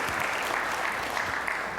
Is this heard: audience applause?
yes